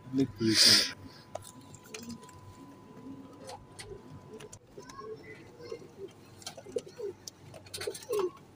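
Teddy flying pigeons coo softly and intermittently in a loft, low murmuring calls scattered under a voice, with a brief burst of flapping or rustling near the start.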